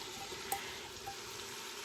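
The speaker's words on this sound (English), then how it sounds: "So we're gonna throw the onions in there." Chopped onions for a bacon cheeseburger soup thrown into a hot pot, a soft steady sizzle running throughout before a sudden close clatter right at the end.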